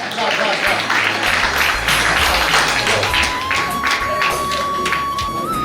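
Loud audience applause fills a founders' day ceremony hall at a Deshpande Trust event, a dense steady wash of clapping lasting throughout with a low background hum and a sustained tone entering midway.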